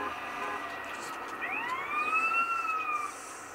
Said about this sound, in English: An emergency vehicle coming through